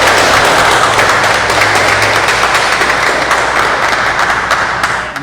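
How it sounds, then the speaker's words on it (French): A congregation at a Tuesday Bible study meeting gives very warm, sustained applause, a loud, dense wash of many hands clapping steadily throughout with a low hum underneath, easing off slightly at the end. "saluons le travail de son fidèle serviteur par de très chauds applaudissements encore une fois"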